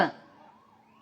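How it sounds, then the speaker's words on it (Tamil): A 108 ambulance siren sounds as the vehicle passes a protest in Cuddalore, a short loud burst at the start that fades into a thin wavering tone. "இந்த நம்ம ஆம்புலன்ஸ் 108 ஆம்புலன்ஸ் போது பாரு"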